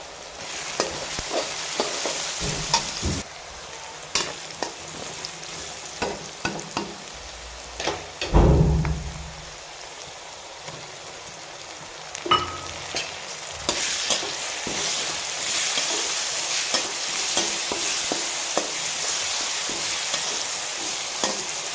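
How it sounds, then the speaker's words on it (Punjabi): Tomatoes and onions frying in a pan, a soft ongoing sizzle broken by repeated scraping and knocking of a spoon as they are stirred. "ਟਮਾਟਰ ਤੇ ਪਿਆਜ਼ ਆਪਣੀ ਚੰਗੀ ਤਰ੍ਹਾਂ ਭੁੱਜ ਗਏ ਆ"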